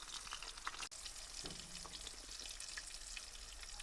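Fish fries in plenty of oil in a pan, sizzling and crackling steadily, a dense continuous frying hiss with small pops, close and fairly quiet, with no voices.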